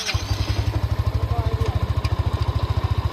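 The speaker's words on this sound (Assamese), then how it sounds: "তো বাইকখন চলাই স্টাৰ্ট কৰিব বিচাৰিছো আপোনালোকক দেখাম কেনেকৈ চলাই" A motorcycle engine catches and settles into a steady idle, its low exhaust beat pulsing in an even, rapid rhythm close to the listener.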